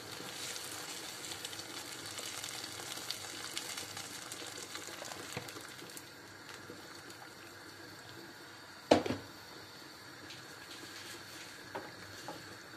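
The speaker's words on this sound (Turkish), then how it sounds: "Bundan sonraki aşamada kaynattığımız 1 litre sıcak suyumuzu ilave ediyoruz" About a liter of hot boiled water is poured into pasta cooking in tomato sauce, giving a faint, steady hiss and sizzle that later quietens, with a single sharp clunk near the end.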